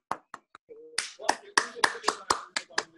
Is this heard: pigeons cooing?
no